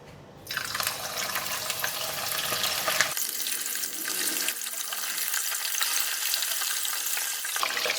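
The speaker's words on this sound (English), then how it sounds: "the fish is frying" Small whiting fillets seasoned with garlic and turmeric fry in very hot oil, giving a loud, continuous, close sizzle that crackles and shifts as the fish cooks.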